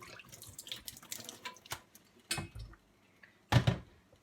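Vinegar water pours from one container into another in short splashy bursts, with a louder gush near the end and quiet pauses between pours.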